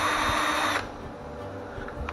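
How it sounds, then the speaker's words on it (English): An 18-volt cordless drill runs at high speed with a loud, steady whir that stops abruptly after under a second, leaving a quieter hum of the drill spinning down. "Okay, so with our drill here we got two different speeds."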